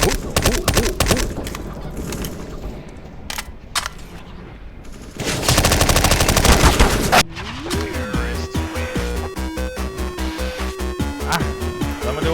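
An MP5-SD submachine gun fires in rapid bursts in the game CS-GO, dense mechanical rattling with a long sustained volley in the middle, followed by quick rhythmic in-game clatter and tones.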